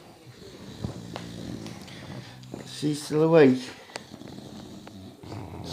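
Dogs snoring while napping, a rough, rhythmic snore that rises loudest midway through, heard under a person talking quietly nearby.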